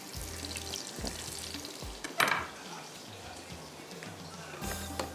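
Sliced onions with garam masala fry toward golden brown in a pan, a soft continuous sizzle broken by utensil clinks and one sharp metallic clatter, with faint background voices.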